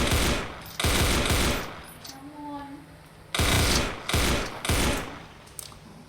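Gunfire in a Roblox shooting game, several loud bursts of rapid automatic shots separated by short pauses, with quieter game sounds in between, close and dominant.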